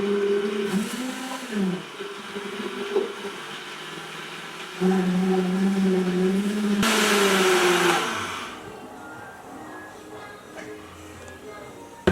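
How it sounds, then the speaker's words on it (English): A blender whirs steadily, its motor pitch rising and falling as it churns, with a louder, harsher surge near the middle before settling back down. "is so fascinated with the sound of blender."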